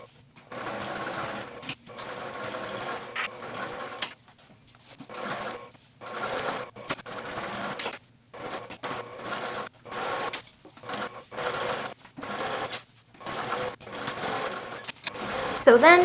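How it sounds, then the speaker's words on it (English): Sewing machine top stitching cork fabric onto foam with a quarter-inch seam, running in repeated close bursts of steady needle chatter separated by short pauses. "top stitch them in place with a 1/4 inch seam"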